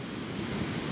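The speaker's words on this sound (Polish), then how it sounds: "dawno nie widziałem tutaj tak wzburzonego morza" Rough, heavy sea surf off Puerto Rico gives a loud, steady roar of crashing waves, close and continuous, with no voices.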